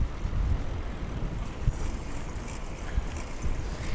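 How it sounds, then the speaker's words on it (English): Wind buffeting a microphone while cycling into a headwind, a continuous loud low rumble with gusty swells throughout and no talking. "I'm going up against some wind."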